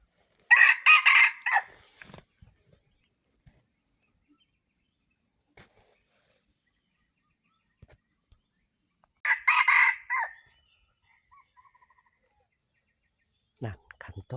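Two bursts of a red junglefowl's crow, one at the start and another after a long quiet gap, clear and fairly close against near silence.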